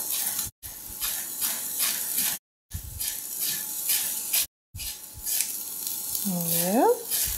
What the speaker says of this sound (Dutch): Ondertussen mijn uitje al behoorlijk gefruit.